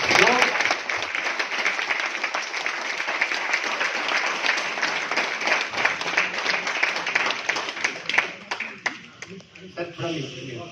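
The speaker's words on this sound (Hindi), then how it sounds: "एक बार जोरदार ताली होनी चाहिए" An audience gives loud, sustained applause after a business marketing-plan presentation, dense clapping that stays full for most of its length before tapering into scattered claps near the end.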